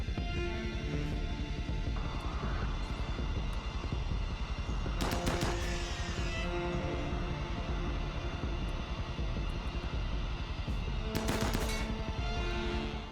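Gunfire in the colony-management game RimWorld during a battle in a blizzard, with two sharp bursts of rapid shots standing out over a constant dense wash of game noise and background sound.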